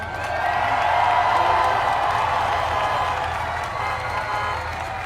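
A large audience at Kamala Harris's vice-presidential speech claps and cheers in a sustained, dense roar, swelling early and then easing slightly while staying loud throughout.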